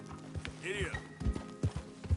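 A horse gallops in the video game Red Dead Redemption 2, heavy rhythmic hoofbeats thudding close, with a brief whinny and a person speaking over the running.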